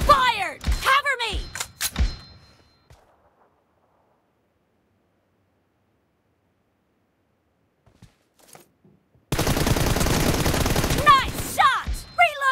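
Rapid bursts of gunfire in a mobile shooter game, loud and close, with crisp shots at the start, a long quiet gap, then a sustained dense volley mixed with game voice callouts.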